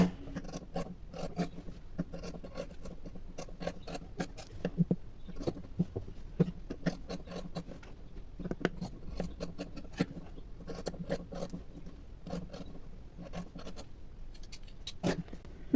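Scissors trimming the excess edge of plain blouse fabric, producing a steady run of close, crisp snipping and rasping cuts with no talk over them.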